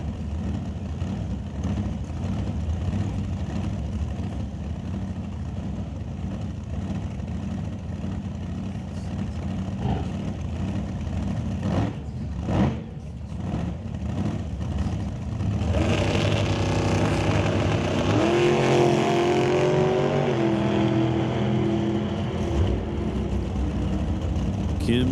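An NHRA drag race car at a Northwest National Open Series event idles and rumbles through staging, then its engine swells into a loud, sustained roar for several seconds before easing back down.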